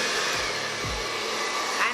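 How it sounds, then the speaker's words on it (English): A standard handheld blow dryer runs on medium heat in a home hair-styling setting, a loud, steady, close whoosh of air with no break across the short stretch. "I'm taking this normal blow dryer"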